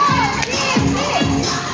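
A children's team shouts a cheer together at a kids' mall event, a loud crowd of young voices yelling in unison in two or three rising bursts across a short span.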